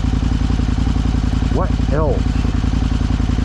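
A 2006 KTM 950 Adventure motorcycle idles steadily after a cold start, its close, loud, even engine pulse running throughout while someone briefly speaks over it.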